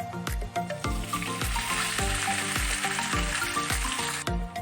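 Cooked rice tipped into a pan of fried cashews and raisins for zarda pulao, raising a loud, steady sizzle with repeated dull knocks of stirring throughout.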